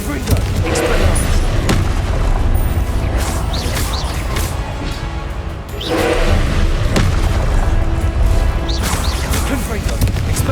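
Confringo blast spells from Hogwarts Legacy burst out again and again, loud booming explosions and crashes packed over dense battle noise with no let-up, dipping only briefly before the barrage resumes.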